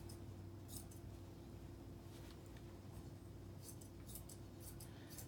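Scissors snip repeatedly at the fringe on a dog's ear during grooming, quiet crisp clipping sounds in scattered bursts, the busiest near the end, over a steady low hum with no talking.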